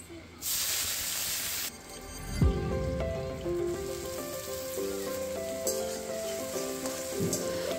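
Vegetables frying in ghee for fried rice sizzle in a sharp hiss, then settle into a softer frying crackle. A clear tonal chime carries over the sizzle in the background.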